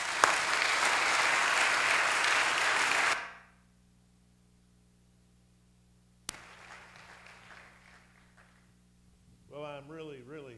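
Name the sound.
church congregation applauding the guest speaker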